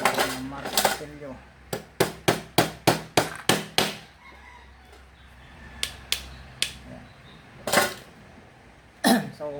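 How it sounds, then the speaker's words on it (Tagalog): Sharp metallic hammer strikes on an engine valve during a DIY repair, a quick run of about eight evenly spaced blows followed by a few scattered hits, with a chicken clucking and crowing nearby. "Martilyo."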